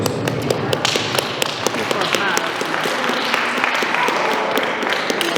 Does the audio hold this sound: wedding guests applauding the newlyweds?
yes